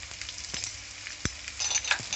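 Onions and slit green chillies fry in a pan on medium flame, giving a soft, uneven sizzle with scattered light crackles that grow slightly busier toward the end.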